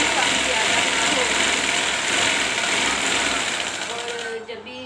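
A sewing machine stitches along a fabric edge with a fast, steady whirring and rattling buzz that runs continuously, then slows and stops at the end, with someone speaking over it.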